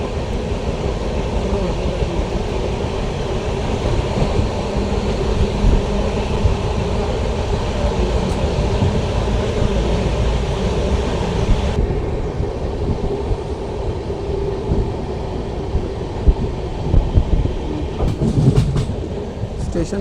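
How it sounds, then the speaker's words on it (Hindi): Express train 22479 runs at speed toward Narwana Junction, heard from on board as a loud, steady rumble with rhythmic clickety-clack of wheels over rail joints and brief rattles near the end. "नरवाना के स्टेशन की ओर बढ़ती हुई ट्रेन अच्छी गति के साथ"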